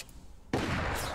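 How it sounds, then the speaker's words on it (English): EMP guns firing in a video game: a sudden loud burst of blast noise that erupts partway through and sustains briefly, with no voices. "Oh! Those weren't flak guns, those were EMP guns."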